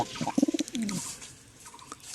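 Pigeons coo inside a pigeon coop, a short run of soft, throaty pulses up close, followed by quieter rustling and faint background noise.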